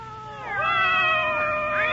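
A cat meows with a drawn-out, wavering caterwaul over a faint steady hum, as several overlapping feline cries rise and fall in a radio mystery drama scene.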